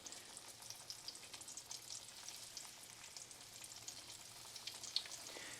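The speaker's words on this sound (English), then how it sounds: "Sizzle, sizzle. And I hope you can hear that." Zucchini sizzles softly in a hot frying pan, a steady hiss peppered with small crackling pops, fairly quiet and without any talking.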